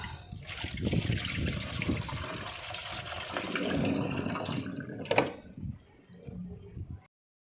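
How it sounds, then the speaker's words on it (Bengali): Rice being washed by hand in water in a home kitchen, a steady trickling and sloshing with a sharper knock or splash near the end before it fades out. "আমি এখন চালটা ভালো করে ধুয়ে নেবো"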